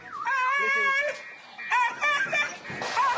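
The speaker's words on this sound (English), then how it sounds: "that's the 4th dog the team has picked up" A stray dog whimpers and yelps in high, wavering cries while being picked up by an animal protection patrol in a city, loud and close, with short bursts of sound after a brief pause.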